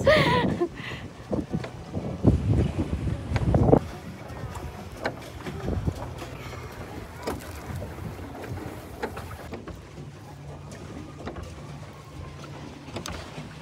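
A paddle boat out on water, with splashing, knocking and water movement close by, wind buffeting the microphone, and people chatting now and then.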